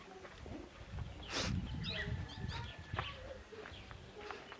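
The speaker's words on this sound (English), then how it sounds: "You hear the birds chirping." Birds chirp and call outdoors in Asmara, scattered short tweets and a cooing dove over a busy low rumble of outdoor background noise, moderately near and not very loud.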